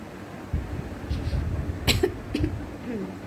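A woman with a slight cold coughs a few times, short throaty bursts close to the microphone with brief pauses between, in a quiet indoor room.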